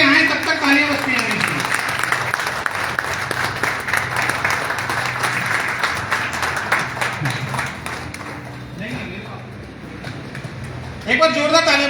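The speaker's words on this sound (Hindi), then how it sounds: "तो जब तक स्टेज पे आए तब तक तालियां बजती हैं।" Seminar audience in Temoor applauding as a guest walks up to the stage, a broad steady wash of clapping that carries on for several seconds alongside voices, then thins out near the end before briefly swelling again.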